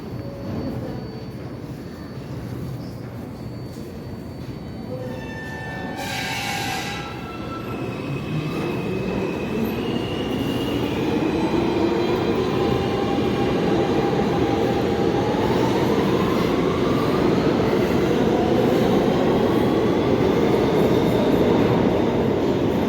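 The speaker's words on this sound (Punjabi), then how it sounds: "ਇਹ ਟ੍ਰੇਨ ਆ ਜੀ ਇਹਨੂੰ ਮੈਟਰੋ ਵੀ ਕਹਿੰਦੇ ਨੇ ਸਬਵੇ ਵੀ ਕਹਿੰਦੇ ਨੇ" A New York subway train approaches and rolls past, a deep rumble swelling steadily louder with rising wheel squeal and metallic whine, close and continuous.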